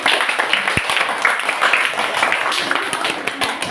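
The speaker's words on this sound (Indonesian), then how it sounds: "tepuk tangan dulu kepada kelompok 1" A classroom of students claps for a group after its presentation on family, a busy close patter of hands that stays fairly loud throughout, mixed with some voices.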